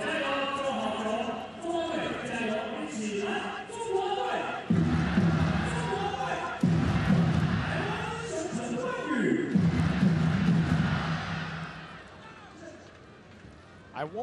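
A large crowd of over 20,000 fills a baseball stadium at a 2023 World Baseball Classic game between Panama and Chinese Taipei, a steady dense murmur swelling into louder cheering bursts, with a broadcast announcer talking over it.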